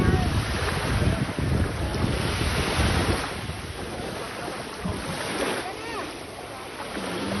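Sea waves breaking at Bolinao beach in Pangasinan, a steady broadband roar of surf with heavy wind buffeting the microphone, loud and continuous throughout, easing slightly toward the end.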